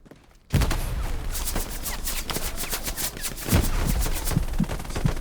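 In a multiplayer shooter video game, rapid gunfire breaks out after a short quiet moment: dense, overlapping bursts of close, loud shots keep rattling on throughout.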